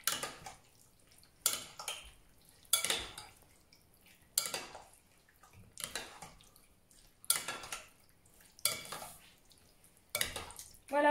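Tikka masala stirred in a pot, a spoon scraping and knocking against the metal in regular strokes about every second and a half, close and clear with wet squelches between.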